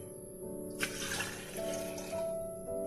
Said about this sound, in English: you will be need a 1 cup of water and pour it into a beaker like this one